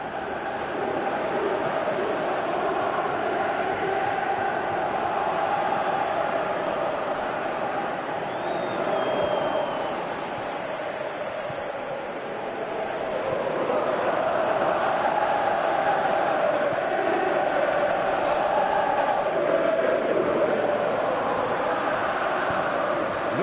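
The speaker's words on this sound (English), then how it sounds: "you can feel and hear how the crowd are reacting to all of this" Stadium crowd noise from a PS4 football video game, a steady broad roar that swells and dips over the length, continuous and fairly loud with no distinct voices.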